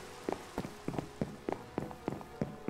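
Rain pattering in a Minecraft-style video game snow biome, a soft steady hiss of drops with repeated brief splashy bursts roughly every third of a second, fairly quiet and alone without talk.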